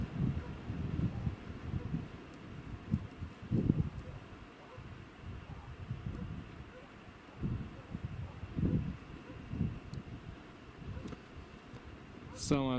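Low, gusting wind buffets and rumbles against the microphone in uneven surges outdoors at a fishing spot, with no other clear sounds.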